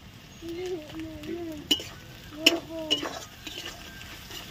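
Spoon scraping and stirring through rui fish curry masala in a pan, with faint sizzling under a few sharp metallic clinks, close by; a voice hums or talks softly in the background.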